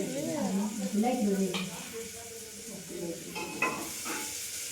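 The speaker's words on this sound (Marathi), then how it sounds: "तर आपण मिरची कांदा जिरे मोहरी टाकलेलं आहे." Chili, onion, cumin and mustard seeds frying in a pan on a home stove, a steady sizzle with occasional stirring beneath close conversational voices.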